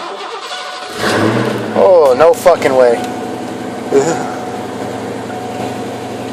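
A Ford Mustang that has sat unused for about two years cranks and fires up, the engine catching with a burst of revving and then settling into a steady running idle, close and loud, with a man exclaiming over it.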